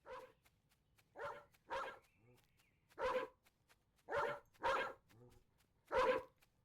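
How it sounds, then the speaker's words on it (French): Dogs in the video game Dog World bark in a series of about seven separate, clear woofs at an uneven pace, with quiet gaps between them. "c'est bon, arrête d'aboyer là"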